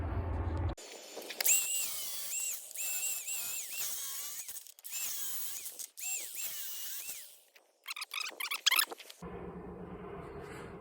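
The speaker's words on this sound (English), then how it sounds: "I'm gonna go grab my cordless grinder. I'll have them cut off in a few seconds." A cordless grinder cuts through long bolts on the drive side of a hay machine's wobble box. Loud, sustained high metallic screeching comes in several bursts with brief dips, a short pause, and a final choppy run before it stops.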